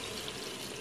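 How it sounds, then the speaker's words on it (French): A glass of water pours into a pot of aubergine sauce, a brief, steady splashing rush, faint and alone. "on va y ajouter un deuxième verre d'eau"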